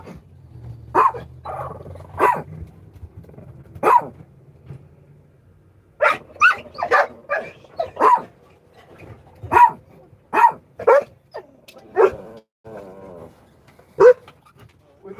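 A dog barks in repeated sharp bursts, some single and some in quick clusters, loud and close in an otherwise quiet space, with a low rumble at the start.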